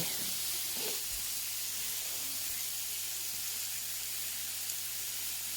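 A steady, soft hiss of steak sizzling in a hot grill pan, continuous and even throughout with no voices.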